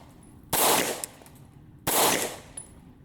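Two loud, sharp gunshots from an Oracle Arms 2311 Compact Pro pistol, fired about a second and a half apart, each followed by a brief echoing decay.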